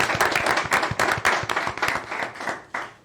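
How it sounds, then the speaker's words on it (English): A round of applause at a mayor and council meeting, with scattered individual hand claps from a modest group, uneven and close, fading within a few seconds. "That deserves a round of applause."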